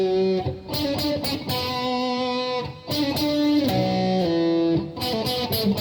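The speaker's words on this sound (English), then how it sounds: "if you put a bit of overdrive with it and do it on guitar, it could sound something like this, which sounds pretty cool." Overdriven electric guitar plays a keyboard riff, distorted sustained notes and quick flurries in a driving, loud phrase, with no talk.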